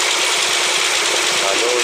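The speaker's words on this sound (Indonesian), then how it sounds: "saluran paret yang di tepi jalan disedot melalui mesin air ya, disedot langsung diisi ke drum berwarna hijau ya" A water pump engine by a roadside ditch runs at a steady, loud drone with a broad rushing noise, drawing ditch water to fill a green drum; the sound is continuous and close throughout, with no pauses.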